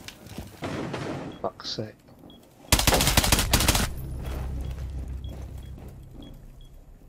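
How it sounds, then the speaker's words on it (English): A loud burst of rapid gunfire in Rainbow Six Siege rips through for about a second, midway through, with players talking over game sounds before and after. "They're just shooting here. They're shooting in here."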